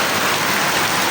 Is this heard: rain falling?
yes